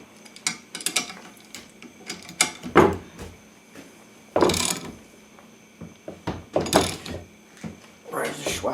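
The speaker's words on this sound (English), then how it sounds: "I can hear it starting to creak. Something's creaking." A U-joint creaks and pops while being pressed in a Tiger Tool automotive U-joint service kit, with irregular sharp bursts of strain, several louder cracks spaced a few seconds apart, close and fairly loud.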